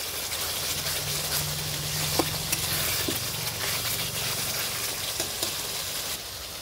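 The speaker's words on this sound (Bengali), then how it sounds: "প্রথমে জিরা আর তেজপাতা ফোড়ন দিয়ে পেঁয়াজ আর রসুন বাটা আমি দিয়ে দিয়েছি। আমি একটু হালকা এটা আমি কষিয়ে নিচ্ছি।" Onion and garlic paste, tempered with cumin seeds and bay leaf, sizzles steadily in a pan for a duck curry. Scattered clicks of a stirring spoon sound over a continuous frying hiss, close and fairly loud.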